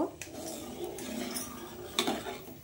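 A ladle clinks against a pot of boiled milk, with a few light metallic scrapes and a sharper knock near the end over a soft, steady background.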